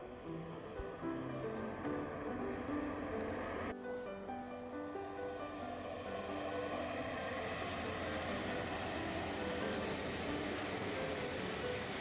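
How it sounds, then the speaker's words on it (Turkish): A long, steady rumble of a passing freight train near Lake Hazar, Turkey, continuous and fairly loud throughout, with a slight change in texture partway through. "Diyarbakır'a doğru giden bir yük treni."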